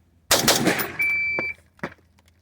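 Two or three sharp gunshots from a D5 carbine during a malfunction clearing drill, the first a loud burst and later reports shorter, close and alone without talk.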